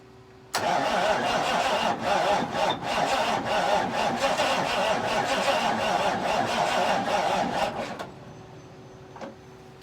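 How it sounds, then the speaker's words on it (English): A Kenworth K100 cabover truck's starter motor cranks the engine in a long, loud, steady grinding churn for about seven seconds without catching, then stops abruptly, leaving a faint hum. "I'm not impressed with that starter."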